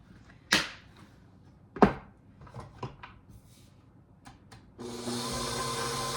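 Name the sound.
electric mixer creaming cookie dough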